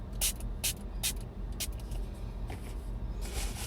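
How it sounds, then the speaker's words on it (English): A spray bottle of alcohol and water mix gives several short, hissy bursts in quick succession, with a longer spray near the end, close and crisp over a low background rumble. "we're going to spray and let's see how well it comes off with this spray."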